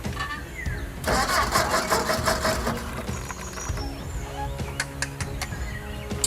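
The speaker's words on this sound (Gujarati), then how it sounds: "છે આ ટ્રેક્ટર? ચાલુ કેમ નથી થતું?" A village tractor with a fault cranks but fails to start, a loud, close grinding starter burst that sputters and rattles unevenly for several seconds with birds faintly behind.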